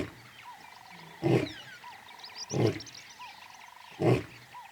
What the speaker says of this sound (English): He announces his presence with a bellowing roar, which can be heard for up to 8 kilometers.